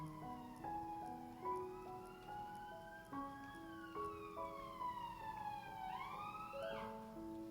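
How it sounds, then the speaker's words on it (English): An emergency vehicle siren wails past on a London street, heard faintly from indoors as rising and falling tones that shift pitch while it moves by, with no talking. "Oh, there's a siren."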